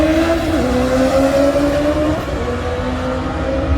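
A 2022 Suzuki Hayabusa motorcycle launches hard at a drag strip, its engine held near 4,000 RPM and then screaming up through steady rising tones, loud and close, with no talking.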